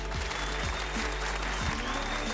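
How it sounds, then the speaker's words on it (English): Studio audience applause for a guest on a radio show, a dense steady patter of clapping with a low sustained music bed running beneath throughout. "Give that man a round of applause."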